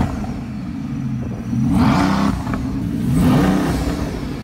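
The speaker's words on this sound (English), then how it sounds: "But take a listen to the Sire exhaust." A Bugatti Veyron fitted with a Sire exhaust revs twice in quick succession, each rise swelling into a loud, deep engine roar over a steady idle rumble, with no talking.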